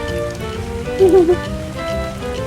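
Rainfall in the video game ARK Survival Evolved, a continuous patter of drops running beneath sustained tonal game music, moderately loud and steady.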